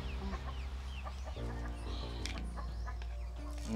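Chicken at a coop clucking in short soft bursts, close and quiet, with a low background hum underneath.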